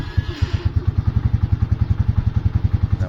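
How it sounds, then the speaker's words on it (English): A Lifan King motorcycle engine idles slightly low, a close, loud, even thumping beat of steady pulses that settles into a regular rhythm after a brief start. "now there it appears to be idling just a little bit low"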